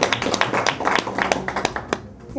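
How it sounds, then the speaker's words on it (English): Workshop audience clapping after a presentation, a loose, uneven burst of individual claps close by that thins out toward the end. "Let's give him a clap."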